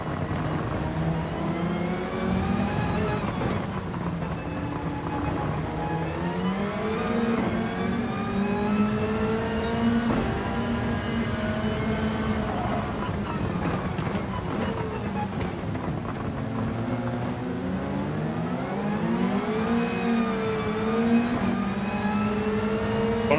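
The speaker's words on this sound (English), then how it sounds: "spun up the rear tires" Race car engine in Gran Turismo 7 during an endurance race, revving hard and continuously as the rear tires spin up, with pitch sweeping up and down through gear changes, loud and steady with wind-like rush throughout.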